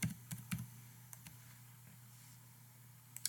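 A date being typed into a spreadsheet on a computer keyboard: a burst of quick keystroke clicks, a few scattered taps, then a pause, a final tap or two, faint over a low hum.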